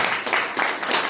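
Audience applause at a business plan seminar, a dense wash of clapping that swells in a few bursts over about a second, with no voice on top.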